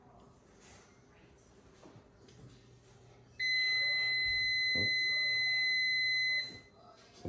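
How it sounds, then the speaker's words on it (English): A kitchen timer going off for a heated pan, a loud, steady electronic beep tone sounding for about three seconds over quiet kitchen background, with a brief exclaimed word just before it. "So that was our timer for the pan"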